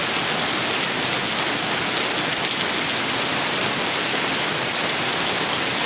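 Heavy rain pours steadily at a bus departure area, a loud, unbroken hiss of drops hitting surfaces close around, with no voices.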